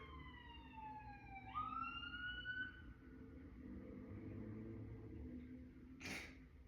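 A siren wails faintly in the distance, its pitch sweeping down and then back up, over steady background rumble, followed by a brief noisy burst.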